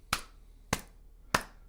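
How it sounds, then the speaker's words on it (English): Three slow, deliberate single claps spaced about half a second apart, close and crisp, with silence between them. "Slow clap for 21."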